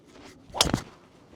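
A golf club swung hard in a speed-training session whooshes once, a sharp, close swish peaking briefly and falling away within about a quarter second, with quiet room tone around it and no talking.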